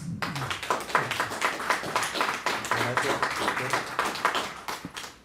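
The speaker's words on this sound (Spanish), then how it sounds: "un aplauso por favor" Seminar audience in Pátzcuaro applauding, a run of sharp, fairly rhythmic claps with voices murmuring underneath, steady for several seconds before fading.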